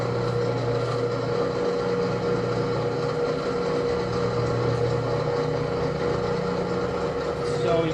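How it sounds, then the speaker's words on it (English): Electric drive motor of a Presto LEE-1-100 aircraft wheel holder turning a tire, a steady low motor hum and whir running continuously at moderate level without talk. "it's got this drive motor here that drives"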